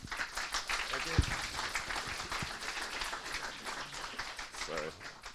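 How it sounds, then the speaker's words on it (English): Applause from a conference audience at a beacon technology event, loose scattered clapping at a modest level mixed with some talking and stage noise. "Round of applause for Matt"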